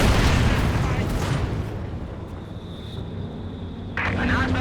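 An artillery barrage from ZiS guns in Company of Heroes 2 opens with heavy, rumbling booms that fade into a low roll, with a commentator talking over the blasts.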